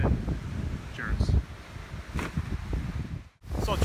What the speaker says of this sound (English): And it is super windy out, as you can tell with my beard